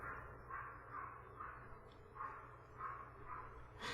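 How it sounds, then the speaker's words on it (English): A small dog yaps at night from a neighbour's place, a faint, distant, evenly spaced series of short barks repeating about every half second. "I don't have to listen to a neighbor's yappy dog at 10 o'clock at night"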